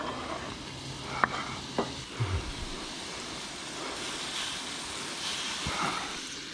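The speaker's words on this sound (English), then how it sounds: "we'll dump this little onion in here" A small onion sizzles faintly in a pan at a motorcycle campsite, a quiet steady hiss broken by a few soft clunks as it is tipped in and moved about.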